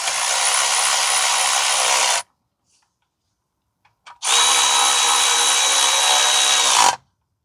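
Close, loud power-tool whirring runs in two long bursts with a silent gap between them as differential mount plate bolts are run in on a 2015 Toyota Sienna 3.5 V6 AWD.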